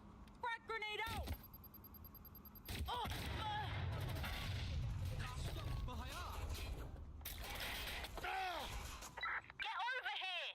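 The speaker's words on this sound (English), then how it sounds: "Frag grenade out!" A frag grenade blast and bursts of gunfire ring out during Watch Dogs Legion gameplay, with sharp impacts, a rumbling explosion and scattered shots, while voices shout over the action.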